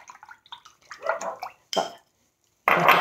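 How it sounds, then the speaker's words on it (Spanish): A paintbrush is swished and rinsed in a little water, giving a few close, short splashy bursts and soft dribbles separated by brief silences. "luego voy a lavar con un poco de agua mi pincel"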